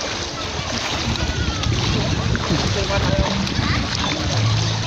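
Water splashing as an elderly man with liver cancer swims, a steady close wash of sloshing and splatter with a voice and other people talking faintly underneath.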